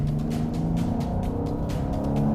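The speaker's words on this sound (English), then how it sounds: "It just sort of loudens the exhaust, makes it bassier and deeper." A deep, throaty 2020 Mercedes-AMG GLC 43 Coupé exhaust burbles steadily up close, a low rumble with rapid pulsing crackle on top.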